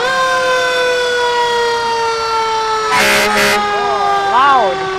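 A fire truck siren wails loudly in a parade, rising and falling in steady sweeps, with sharp blasts of an air horn cutting in near the end amid crowd noise.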